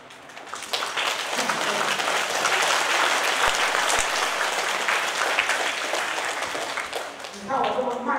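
Applause from a seated audience at a Buddhist temple question-and-answer session, building quickly into steady, dense clapping that carries on for several seconds before tapering off as a voice returns.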